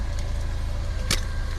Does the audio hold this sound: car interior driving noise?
yes